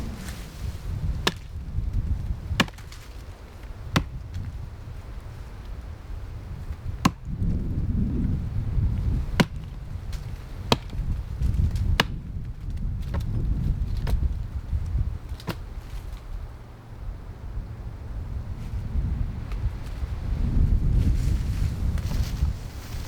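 An axe chops a rotten, dangerous tree outdoors, sending sharp, spaced single strikes over a steady rumble of wind buffeting the microphone.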